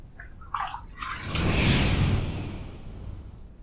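A Rolason LG90 safety razor is rinsed under running tap water, a close rushing splash that builds and then tapers off after a few short clinks at the start.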